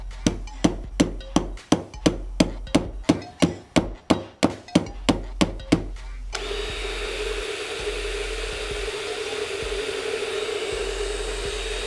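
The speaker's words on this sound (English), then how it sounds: "My drill runs about 75 miles an hour." About six seconds of rapid, regular hammering knocks, then a steady whirring electric drill motor hum that continues alone to the end, during a 1989 Lotus Esprit speedometer cable repair.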